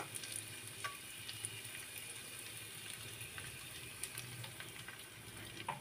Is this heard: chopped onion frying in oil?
yes